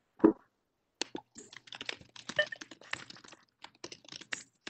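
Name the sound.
loud typing on a computer keyboard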